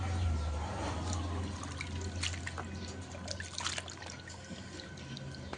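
Water drains steadily from sliced potato wafers in a colander, a continuous close trickling and splashing with no talk.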